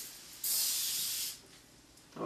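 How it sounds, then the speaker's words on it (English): Foaming disinfectant cleaner sprays onto a toilet in one close, loud hissing burst of about a second, followed by quieter hiss and the start of another spray. "I'm going to squirt the lid, the back of the toilet."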